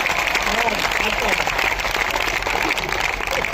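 An audience claps at a Hindi comic poetry recital, dense steady applause filling the room with voices audible beneath it.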